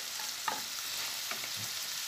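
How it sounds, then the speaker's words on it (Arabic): Chicken liver and gizzards frying with cumin, paprika, black pepper and salt, a steady close sizzle with a few soft scrapes and clicks of stirring in the pan. "نقلبها بقى تقليبه حلوه كده"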